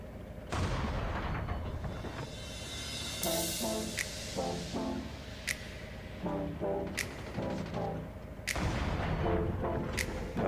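Bazooka shots in Call of Duty Mobile battle royale: several sharp, loud booming blasts spaced irregularly over a continuous rumble of game gunfire and effects, with no talk.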